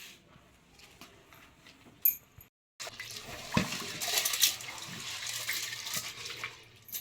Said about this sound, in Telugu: ఇదిగోండి కందిపప్పు అయితే కడుగుతున్నానండి రెండు సార్లు శుభ్రంగా కడుక్కొని